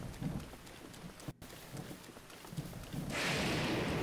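Steady rain falls in the video game The Legend of Zelda: Breath of the Wild, a continuous hiss with soft patters and thuds that grows louder and brighter toward the end.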